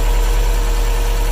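Up close, a 2015 Subaru STI engine idles with a loud, steady low rumble and no voices over it.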